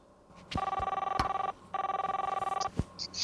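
Two bursts of telephone ring tone with a trilling, pulsed warble, separated by a short pause, sounding as a phone call is placed to a friend; near and clear, with no talking.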